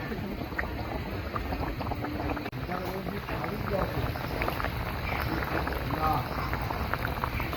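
Aila fish curry with yogurt and slit green chillies boils on a stove, giving a steady, fairly quiet bubbling hiss that runs without a break through the whole stretch.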